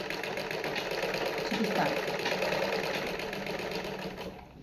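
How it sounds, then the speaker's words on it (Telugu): Sewing machine stitching cloth with the needle lowered, running at a steady, fast, close, loud mechanical rhythm that winds down at the end while someone talks over it. "సూది దించుకొని మరీ కుడుతున్నాను"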